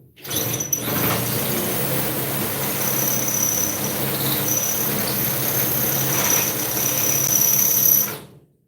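A power drill runs steadily and loudly for several seconds while fitting rivet nuts into the blower unit of a 1973 Superglide motorcycle, with a whining high tone over a broad grinding noise that cuts off sharply at the end.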